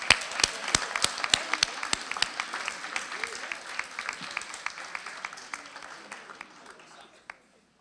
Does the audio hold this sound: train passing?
no